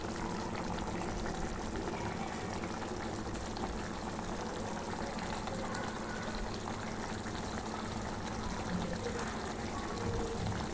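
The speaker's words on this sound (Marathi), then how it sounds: "छानपैकी उकळी उकळी येत आहे" Mackerel fish curry with kokum simmering at a rolling boil in a pot on a gas stove, giving a steady, continuous bubbling and hissing wash that stays even and unbroken throughout.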